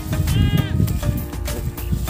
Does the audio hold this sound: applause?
no